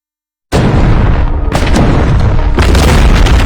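Artillery cannons shell a city in an anime battle. After a moment of silence, heavy booming blasts roll in one after another, loud and continuous, with fresh explosions striking about every second over a rumbling din.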